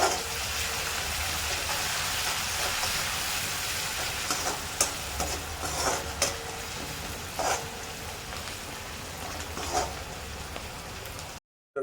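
A chivda tempering crackles and sizzles in a pan, a dense rain-like hiss with occasional louder pops and stirring scrapes, close and continuous until it cuts off abruptly at the end.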